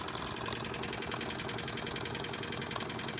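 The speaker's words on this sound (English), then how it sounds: "We're just going to keep the engine running for another couple of minutes." A Wilesco D20 model steam engine runs steadily, giving a fast, even mechanical chugging and rattle with a faint hiss, close and continuous with no talk.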